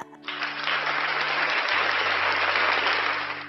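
Applause during an online religious debate room, a dense wash of clapping that swells in quickly and holds steady for a few seconds, alone with a faint low hum underneath.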